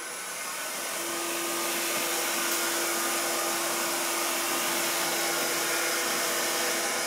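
A wood lathe spins a handle at high speed, giving a steady, loud whirring hum with a constant tone that holds throughout.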